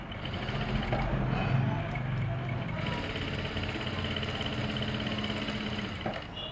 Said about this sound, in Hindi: तो इसके ऊपर से ही सिलाई लगा देंगे।